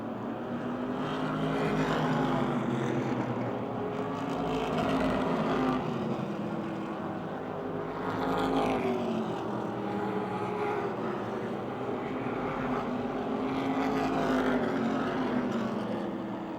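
Wyotech Modified race cars roaring around the Motordrome Speedway oval during a race, with a continuous loud, layered engine drone that swells and fades slightly as the pack passes, with no talk over it.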